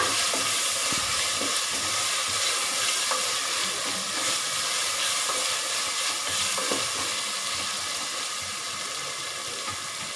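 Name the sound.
mutton biryani mixture being stirred and fried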